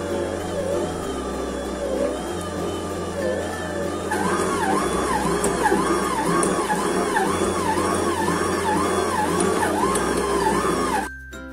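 A Mito MX 100 stand mixer with a dough hook kneads Komachi-flour donut dough, its motor whirring steadily with a rhythmic cycling pulse under backing music until it cuts off at the end.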